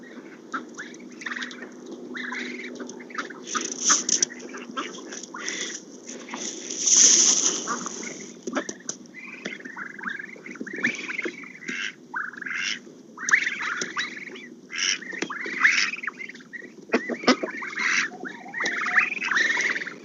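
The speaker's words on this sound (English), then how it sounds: "These are all the baby ducks." Baby ducks following closely, giving a busy run of high peeping and small squawks, near and moderately faint, with irregular bursts throughout.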